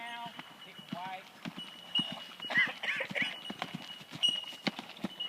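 A horse canters in a riding lesson, its hoofbeats thudding in a quick repeating rhythm at moderate distance while an instructor talks over them and a few birds chirp faintly.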